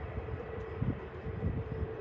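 A jet airliner departs Kunming Changshui Airport, heard as a distant, steady low engine roar with faint rumbling texture and no nearby voices.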